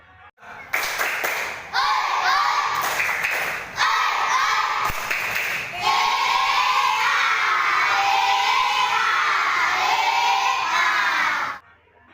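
A room full of schoolchildren in an Indonesian classroom lesson shouts the 'tepuk semangat' chant together, with loud bursts of rhythmic clapping and cheering voices breaking into a sustained group shout that then stops abruptly.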